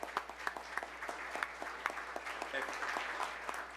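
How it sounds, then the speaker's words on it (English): Audience applause at a city commission meeting, a round of steady clapping from a modest crowd with sharp individual claps standing out, fairly close and sustained throughout. "great round of applause tonight?"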